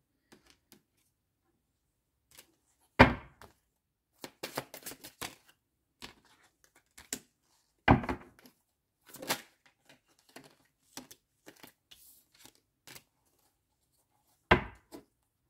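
Tarot cards shuffled and drawn: sharp, separate snaps and riffles come in irregular bursts with quiet gaps between, fairly close and alone.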